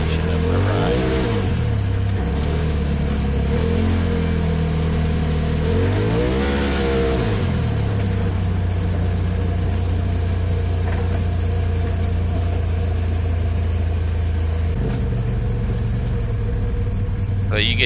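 A side-by-side off-road vehicle driving at Lake of the Ozarks Offroad Park, its engine revving up and down in several rising surges early on, then settling into a steady loud rumble.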